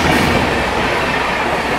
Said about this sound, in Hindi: 12301 हावड़ा नई दिल्ली राजधानी एक्सप्रेस।